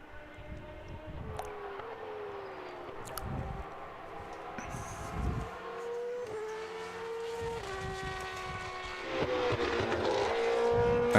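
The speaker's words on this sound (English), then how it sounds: "particularly these cars from the 70s, they did make a really, really good, well, a racket, a wonderful racket" Several 1970s Formula 1 race cars scream past at Donington circuit, high-revving engine notes rising and falling with gear changes as cars approach and pass, loud and continuous with no talk over it.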